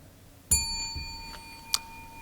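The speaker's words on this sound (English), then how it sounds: "if you get the word wrong, you'll hear a bell." At an elementary spelling bee, a single bright bell strikes once to signal a wrong spelling, its clear ring sustaining and slowly fading, followed by a faint tap near the end; no talking.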